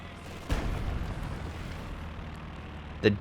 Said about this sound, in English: Oh, that's a good artillery barrage.